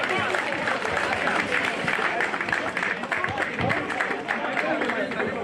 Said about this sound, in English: Please, an applause. Start clapping.